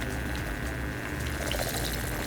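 Water swirls in a makeup brush bowl cleaner with a steady, close, churning wash of sound and no talk.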